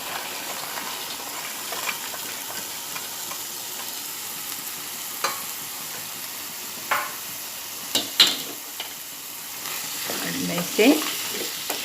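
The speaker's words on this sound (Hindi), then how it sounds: "मसाला और भेलभाल को मिला रही हूँ ताकि मसाला सब तरकारी को लगे।" Masala and bhelbhal vegetables being stirred together in a pan for tarkari, a soft steady sizzle with occasional scraping clinks of the spoon, and someone speaking briefly.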